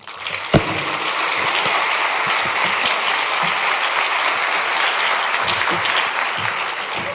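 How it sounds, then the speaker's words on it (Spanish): Sustained audience applause closing a panel session on public policy and new technologies, dense steady clapping from a crowd lasting several seconds with one sharp louder clap near the start. "Le pido para despedirlos un nuevo aplauso."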